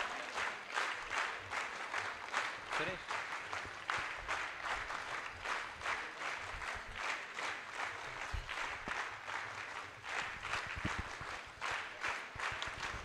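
Audience applause at an IMPACT 2023 talk event: a large crowd claps steadily and densely for the whole stretch, loud and close, with no pause.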